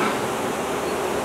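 Honey bees fan their wings and buzz at the hive entrance on package day. A dense, even hum of many insects fills the air continuously at close range.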